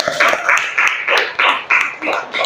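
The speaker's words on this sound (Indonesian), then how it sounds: "Ya, tepuk tangan untuk Mbak Sofi." Classroom applause in an Indonesian teacher-training lesson, steady dense clapping from a group of students throughout, with a few louder bursts and no talking.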